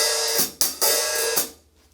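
A hi-hat on a drum kit is played in a short rhythmic pattern of bright, sizzling cymbal strokes, some choked and some left to ring briefly, heard alone at close range.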